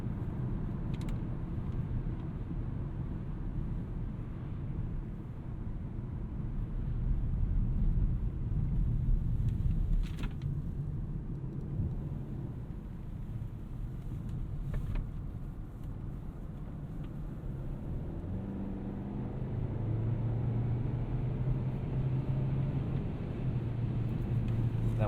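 A 2021 Kia K5 LXS AWD with a 1.6 turbo engine climbs a hill, heard from inside the cabin as a steady low engine and road rumble that swells as it pulls upward.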